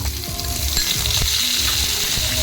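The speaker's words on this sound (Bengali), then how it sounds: "এবার আমি এই চিকেনগুলোকে সিদ্ধ করা চিকেন হালকা করে ফ্রাই করে নেব" Boiled chicken pieces being lightly fried in white oil in a pan, with a steady loud sizzle throughout and soft stirring knocks.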